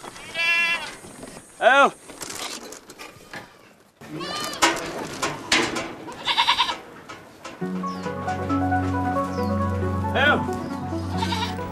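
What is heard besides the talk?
local black goats bleating on a farm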